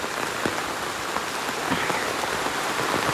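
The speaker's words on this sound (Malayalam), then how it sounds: "നല്ല മഴ" Heavy rain pours steadily onto a surface, a dense, even hiss with scattered louder drop impacts and no voices.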